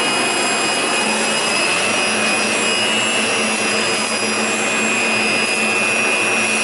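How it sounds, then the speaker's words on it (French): A leaf blower with a 16-metre hose fitted to its outlet runs continuously and loud, a steady roaring whine with high tonal hum, close to the microphone throughout. "l'aspirateur à feuilles, avec sur la sortie 16 mètres de tube"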